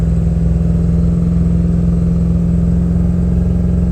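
A 2003 Ford F250 with a 7.3 Powerstroke diesel drives along hauling firewood, giving a steady, loud, low engine drone heard from inside the cab, with no talking.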